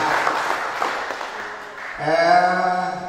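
Applause from an audience at a provincial assembly meeting, a brief wash of clapping that fades after about two seconds, followed by a voice speaking close to the microphone.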